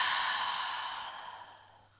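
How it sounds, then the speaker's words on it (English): One long, full breath pushed out through the mouth at the close of a beginner yoga practice, a soft airy rush that gradually tapers away, heard alone and close by. "exhaling fully out through your mouth"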